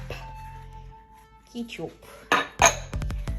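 Chicken pieces being mixed with powdered seasoning and ketchup in a bowl, a run of clinks and scrapes of utensil on dish that grows louder toward the end, with quiet talk underneath.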